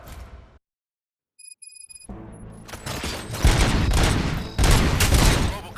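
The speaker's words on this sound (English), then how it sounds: "Gunshots? What's going on?" In the video game RoboCop: Rogue City, after a brief silence and a few beeps, heavy gunfire erupts, with loud bursts of rapid shots booming close and continuous.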